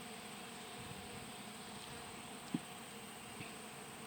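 Honey bees buzz in a faint, steady hum during a hive inspection, with a single soft tap partway through.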